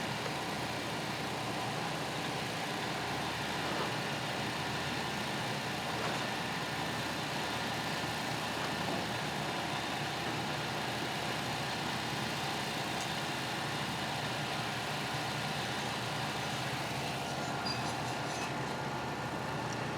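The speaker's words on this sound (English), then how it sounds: "be able to have it idle without changing. And then hit the throttle, it should have acceleration" A chainsaw engine runs steadily for a long stretch, a continuous mid-pitched drone that stays fairly even, with a slight rise in intensity toward the end as the throttle is worked.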